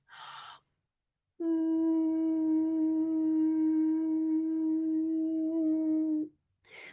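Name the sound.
falsetto head voice vocal exercise demonstration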